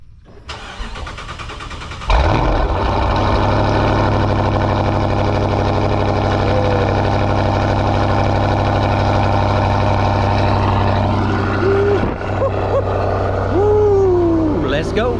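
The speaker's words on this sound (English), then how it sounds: "we're going to start off with a cold start" A car engine cranks and catches about two seconds in, then settles into a loud, steady idle close by, with a brief rise in revs and a few short voice sounds near the end.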